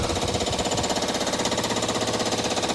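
Flycutter on a milling machine cutting at 967 RPM, giving a steady rapid rhythmic chatter of small knocking impacts with each pass, loud and continuous throughout with no voices.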